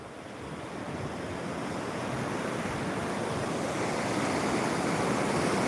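Rushing, surging water from waves on the flooded Sina river at an old bridge on the Mangalvedha–Solapur road, a dense continuous wash that gradually swells louder, with wind noise and no voices.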